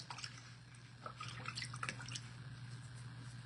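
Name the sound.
glass etching stencil dipped into a bucket of water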